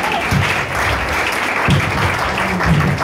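A church congregation applauds loudly and steadily, a dense continuous clapping that fills the space throughout.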